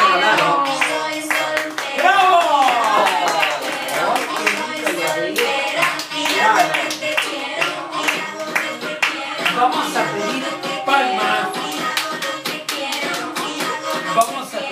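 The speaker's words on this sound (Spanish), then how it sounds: "Palmas y gritos." Rhythmic group clapping with shouts and cheering at a six-year-old child's birthday party, dense and lively throughout, with children's and adults' voices mixed in.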